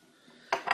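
A bottle of bottle-conditioned IPA brewed with crystal malt and Amarillo hops is opened, giving two quick, crisp cap-release bursts close by after a quiet moment.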